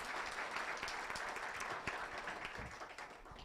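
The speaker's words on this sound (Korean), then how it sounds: "이렇게 한번 큰 박수로 감사의 먼저 드리겠습니다." A church gathering claps in thanks, a moderate burst of applause with some distinct nearby hand claps that thins out toward the end.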